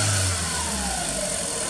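A Volkswagen car engine revved hard at a repair shop while diagnosing a fault, a loud close roar that rises sharply at first and then settles toward a wavering idle.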